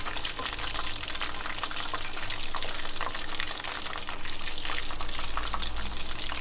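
Chicken pieces fry in hot oil with a steady, close, crackling sizzle that carries on unbroken, with no one talking.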